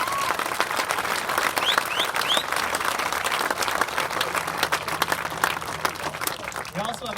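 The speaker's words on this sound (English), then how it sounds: "Please join me in giving them a round of applause" Crowd applause at an outdoor veterans park dedication in Madison, steady dense clapping across the whole stretch with a few faint whistles and voices mixed in, fading slightly near the end.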